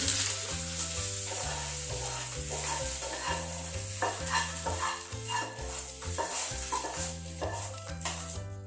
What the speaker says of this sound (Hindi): ट्रांसफर कर देनी से कढ़ई की भल से मिक्स कर दे